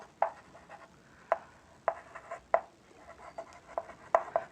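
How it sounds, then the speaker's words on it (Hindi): A pen taps and scratches across paper as equations are written by hand for a Class 10 maths lesson: about eight crisp, quiet strokes at irregular intervals in a hushed room, with no talking. "अब यहाँ लिखते हैं"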